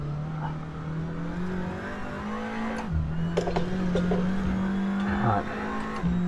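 A Seat Leon TCR race car engine in Assetto Corsa drones steadily at high revs, pitch dipping and climbing through gear changes and braking, with a driver talking over it.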